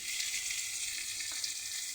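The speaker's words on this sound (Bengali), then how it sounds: "কিছুক্ষণ ভাজা হোক পেঁয়াজটা" Potato and onion fry in a pan with ginger paste, a steady bright sizzle with a faint stir or two, close and even, no voices.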